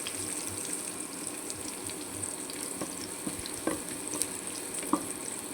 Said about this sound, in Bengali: কড়ার সাথে পেঁয়াজ বসাইলাম।